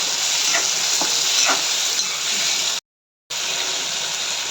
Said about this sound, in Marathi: लसूण टाकून घेतले आहे आता हे छान लालसर कलर येईपर्यंत आपण फ्राय करून घेणार आहोत